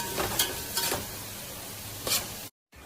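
Chopped onion being stirred and sautéed in a pan until golden, a soft steady sizzle with a few brief louder scraping bursts of stirring, fairly close, no talking, ending in a short moment of silence.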